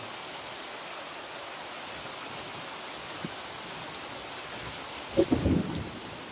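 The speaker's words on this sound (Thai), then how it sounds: "ฝนมันตกวันเนี้ย" Rain pours steadily as a constant hiss, with a brief low rumble of distant thunder rolling in near the end; no one speaks.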